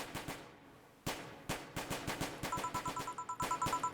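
Distant gunfire in the game VA-11 Hall-A, a run of sharp, rapid bursts with irregular spacing at first, then quickening into a tight volley, accompanied by a steady electronic beeping tone.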